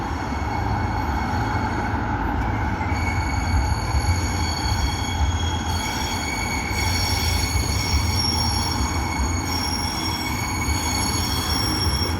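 Loud, continuous rumble of a train arriving close by in Wolverhampton, UK, with steady rail noise and faint high wheel squeal.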